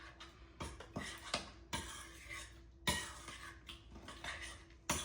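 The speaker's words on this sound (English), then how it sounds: "you're just going to stir that together until it's good and combined" Watergate salad with pineapple being stirred together in a bowl, a utensil scraping and clinking against the bowl in repeated uneven strokes, close and fairly quiet, with no talking.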